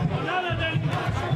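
Crowd cheering and roaring at a fight event after landed kicks, a loud, sustained wash of voices filling the arena with swelling bursts.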